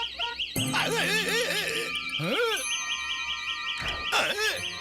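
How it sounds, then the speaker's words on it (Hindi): A cartoon scanner blares a warbling, siren-like alarm in repeated rising-and-falling sweeps, loud and continuous across the clip with brief breaks, its electronic chirps cycling several times. "ये मुझ पे भी ह्यूमन अलार्म बजा रहा है।"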